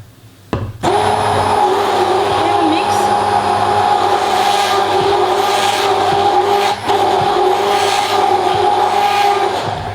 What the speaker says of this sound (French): et commencer à mixer. Pour émulsionner notre mélange.